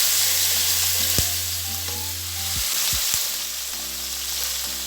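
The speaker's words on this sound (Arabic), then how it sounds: "هشوحها شويه في الصينيه" Chicken pieces sear in hot oil in a baking tray, a steady close sizzle and crackle running throughout, with a few soft knocks and scrapes as the pieces are moved.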